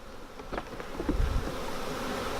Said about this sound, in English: I'm stuck in a swarm of bees.